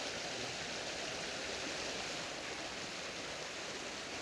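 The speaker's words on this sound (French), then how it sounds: "Une espèce de petite cascade." Water cascades over a small waterfall, a steady, close, unbroken rushing roar with no voices.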